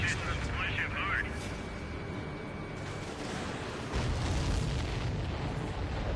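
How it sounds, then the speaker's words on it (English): Explosion in the jet combat video game Ace Combat 7, a dense roaring burst with a booming low rumble that swells near the end, set in constant engine and battle noise with radio-style talk over it. "Did you see that explosion?"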